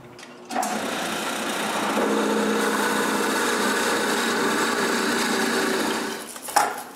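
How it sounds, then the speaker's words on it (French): A power drill bores holes through wooden blocks for a wooden tripod, a continuous loud whine of several seconds that starts and stops abruptly, heard alone without speech. "puis percer les autres trous."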